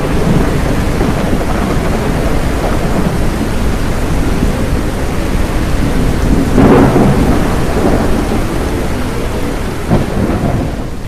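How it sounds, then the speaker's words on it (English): Thunderstorm in a heavy downpour: steady loud roar of rain throughout, with deep thunder rumbles swelling mid-clip and a sharp crack near the end, no voices. "We're in the eye of the storm."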